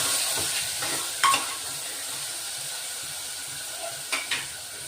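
Green peas sautéing in a pan for yellow khichdi give a steady, faint sizzle and hiss, broken by a few soft scrapes and clinks of a stirring spoon against the pan.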